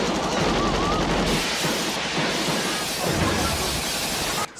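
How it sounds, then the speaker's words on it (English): Dense, continuous gunfire from a slow-motion shootout scene in the movie Loose Cannons, with rapid, overlapping shots and crashing impacts that stay loud throughout, stopping abruptly just before the end. "This results in a shootout where they rip off John Woo's slow motion."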